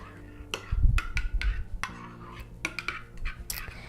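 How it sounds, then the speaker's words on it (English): Pakora batter is stirred in a bowl, making a run of light clinks and scrapes of a utensil against the dish, quiet and close, in uneven strokes. "you want to stir that together like so"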